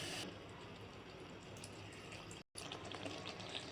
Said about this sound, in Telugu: ఇప్పుడైతే కొన్ని వాటర్ పోసుకుందాం